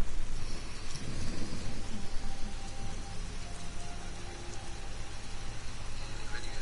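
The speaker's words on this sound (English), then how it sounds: "Stormy night, rain sound effects." Rain falls steadily through a stormy night, a constant hiss of drops on surfaces with a low rumble underneath, moderately loud and continuous.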